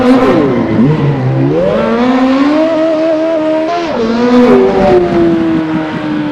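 Car engine revving hard while drifting, loud and close, with the pitch rising and dipping as the throttle changes through the slides, and tires faintly squealing underneath.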